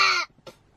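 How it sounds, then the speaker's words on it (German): A raven gives one loud, harsh caw close by, followed by a short, fainter croak, then quiet. "Was ist da, ein Rabe?"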